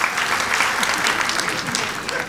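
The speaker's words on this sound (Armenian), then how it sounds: "միա ծափահարեք, խնդրում եմ" Sustained applause from a stand-up comedy audience, many hands clapping densely and evenly throughout at a loud, steady level.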